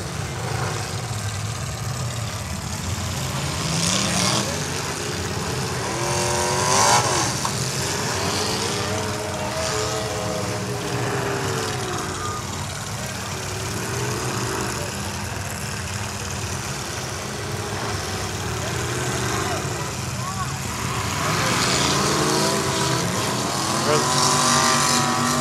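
Race cars at the Chino Challenge race drone around the track, their engine notes rising and falling with passes. Commentators talk continuously over the moderately distant engines.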